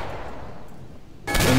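A burst of rapid gunfire from a Wild West–style firearm in the Roblox game The Wild West erupts loud and dense after a quieter stretch of ambient game noise, filling the last part of the moment.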